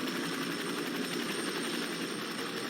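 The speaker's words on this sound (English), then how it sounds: "we got into another helicopter" Helicopter flying in the video game Fear 3, a steady loud rotor and engine drone filling the whole stretch without pause.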